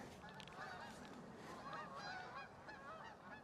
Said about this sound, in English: Are those geese?